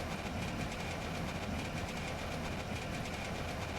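A failing car engine in the driving game The Long Drive runs as a steady, rough mechanical drone with a rattling, clattering texture, continuous and fairly loud throughout, with no talking over it.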